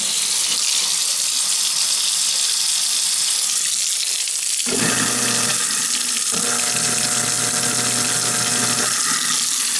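A garbage disposal spins with a loud, rushing mechanical whir mixed with running water, and a low motor hum swells in partway through.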